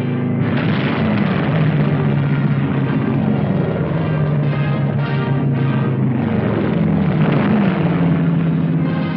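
Military airplanes of the Second World War era drone overhead, a loud continuous engine roar with a low pulsing hum that swells and fades slightly, heard in an old wartime newsreel recording.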